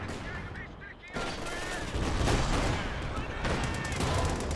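Gunfire striking a Cromwell tank in a Company of Heroes 2 match: dense, sustained bursts of rattling shots and impacts that grow louder after the first second, with a commentator speaking under the battle noise.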